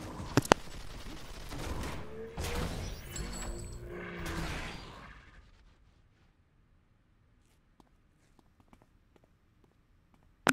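Rapid gunfire from dual pistols rattles in dense bursts during a City of Heroes battle, loud for about five seconds before dropping to near silence with a few faint clicks and a final sharp crack.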